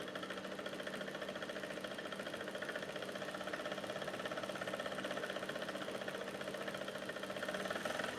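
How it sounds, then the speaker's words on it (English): Sewing machine stitching the fabric band of a simple top, a steady low mechanical hum with a fine fast rhythmic chatter running continuously and fairly quietly throughout, no talk. "So now I'm stitching."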